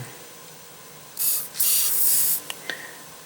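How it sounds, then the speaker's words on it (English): Two bursts of hissing aerosol penetrating lubricant sprayed into a headlight cavity of a New VW Beetle, one short and one longer, followed by a couple of small clicks, close and fairly loud. "you want to spray penetrating lubricant right there in that cavity"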